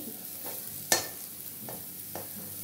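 A spatula scrapes and stirs leafy greens with turmeric frying in a pan, with a soft continuous sizzle underneath and a few sharp clinks against the metal.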